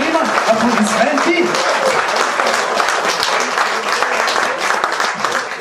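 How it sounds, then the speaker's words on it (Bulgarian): Dense, sustained applause from a large audience at the opening of a gadulka players' folk music gathering in Kalofer, steady and loud throughout with a few voices mixed in. "Аплодисменти!"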